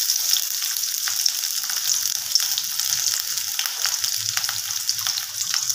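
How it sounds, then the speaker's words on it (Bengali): Chopped onions sizzle steadily in hot oil in a pan, a close, continuous crackling fry with small stirring noises and no talking. "এবার এর মধ্যে আমি পেঁয়াজ দিয়ে দেব।"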